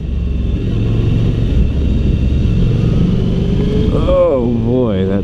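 A 2016 Suzuki V-Strom 1000 motorcycle drones loudly after a downshift, steady engine and wind noise; near the end a voice speaks over the ride, with wavering pitch.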